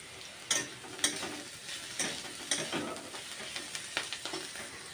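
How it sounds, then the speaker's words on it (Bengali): Onions frying in a pan with salt, turmeric and chilli powder, stirred by a spatula that scrapes and taps in irregular strokes over a steady close sizzle, no voices. "দেখো পেঁয়াজগুলো কিন্তু আমার ভালোভাবে ভাজা হয়ে গেছে"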